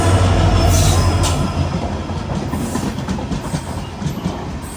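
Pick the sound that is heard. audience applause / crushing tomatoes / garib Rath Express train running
garib Rath Express train running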